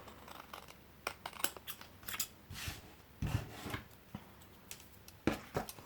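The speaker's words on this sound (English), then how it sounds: "now let me just cut off the edges of those hanging bits" Scissors snipping the hanging edges off paper scraps for Project Life cards, a series of short, crisp cuts in irregular bursts, close and fairly quiet with no talk.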